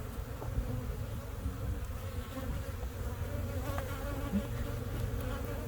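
Honey bees buzz steadily around an open hive during a spring inspection, a constant low droning hum with a few brief louder passes close by.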